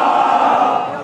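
Crowd of Hutteen football supporters roaring and chanting at Al-Basel stadium in Latakia after a one-goal derby win over Tishreen, a loud, dense, sustained wall of voices close around.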